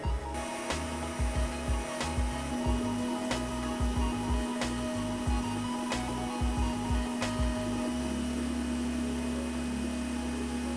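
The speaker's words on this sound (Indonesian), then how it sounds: "karena power mixer Mito ini sangat bagus, jadi proses mengocoknya ini hanya butuh waktu sekitar 3 menit saja" A Mito power mixer whips egg whites with sugar for klappertaart, its loud steady motor whine running throughout with rhythmic thumping of the beaters against the bowl.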